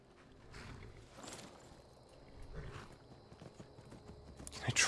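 Horse hooves clip-clopping on a road in the Skyrim video game, a steady walking rhythm of soft, fairly faint hoofbeats with light ambient background and no talk.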